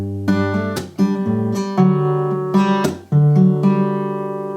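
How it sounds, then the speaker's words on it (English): Acoustic guitar playing a song, with sharp percussive taps on the strings breaking up plucked arpeggio patterns, played close and clear with ringing sustained notes and no talking. "but this time you're going to do a little arpeggio."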